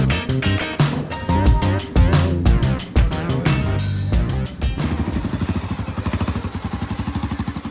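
A loud motorcycle engine close by, first revving in choppy bursts of throttle and then settling into a steady, rapid-pulsing rumble; no talking.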